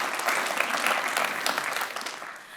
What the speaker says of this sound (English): I'll take the clap.